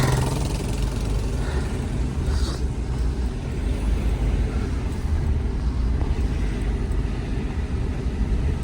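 A Hyundai Santa Fe engine idles close by in a steady, even drone with a low, continuous rumble and no talking over it.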